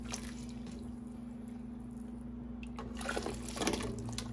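Dry rice grains pour and patter into boiling water, a short rustling splash rising near the end over a steady low hum.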